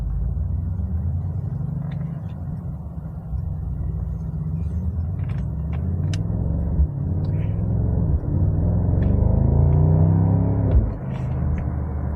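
Mercedes-AMG SL 63 sports car on the road, a steady deep interior rumble of engine and tyres with shifting low tones as speed changes, and a few faint clicks.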